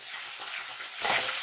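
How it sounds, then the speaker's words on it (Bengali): Spices with turmeric sizzle and fry in a pan for a vegetarian pointed gourd dish, a steady hiss that grows louder as they are stirred. "সমস্ত মশলাগুলো দিয়ে খুব ভালো করে ফ্রাই করে নিচ্ছি"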